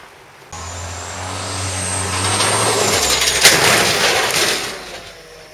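A Ford Focus stock car's engine drones loudly, then breaks into a rough, noisy rumble with a sharp impact partway through before fading, heard alone without voices.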